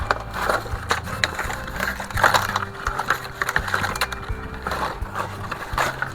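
Cardboard packaging of a Playmates Star Trek U.S.S. Excelsior toy is opened up close, with crinkling, tearing and scraping in busy, irregular bursts over low background hum.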